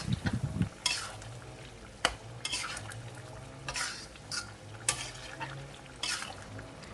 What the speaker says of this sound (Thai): แล้วก็คนคลุกเคล้าให้ส่วนผสมทุกอย่างเข้ากันค่ะ